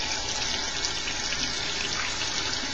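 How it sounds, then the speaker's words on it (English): Tap water runs steadily at a kitchen sink while tomato seeds are rinsed in a fine screen colander, a close, continuous splashing rush. "Now you rinse them off."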